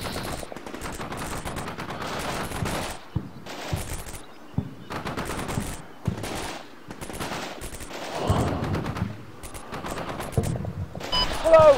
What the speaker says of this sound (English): we've got a grenade launcher that's targeting that